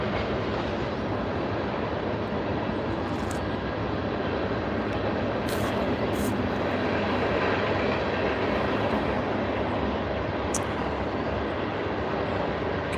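A train rolls past close by as a steady, dense broadband rumble that holds level throughout, with a few brief high metallic squeals and clicks standing out along the way.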